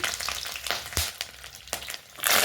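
Garlic and whole spices such as cinnamon, cloves and cardamom sizzle in hot oil in a pan, a loud close crackle with a few sharp pops and a stir near the end.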